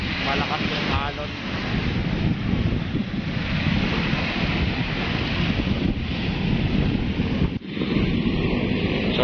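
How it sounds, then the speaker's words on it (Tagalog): Strong sea waves at Manila Bay washing in as a continuous rushing surf roar, mixed with buffeting wind noise on the microphone and a brief dip near the end. "malakas yung alon."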